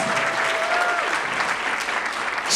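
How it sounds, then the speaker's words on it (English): An audience applauds Ghana's High Commissioner to the UK and Republic of Ireland at a diaspora and development session, a continuous even wash of clapping from a full room. "deserves a round of applause"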